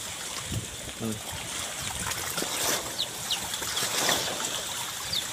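Rough sea whipped up by the strong monsoon of typhoon Carina makes a continuous broadband roar of churning water, steady and loud from start to finish, with faint voices in the background.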